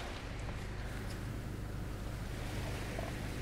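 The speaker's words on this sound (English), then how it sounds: "Look at these waves." Video game ocean waves around a lone island surge as a steady, dense roar of rough, rocky water that fills the whole stretch without pause.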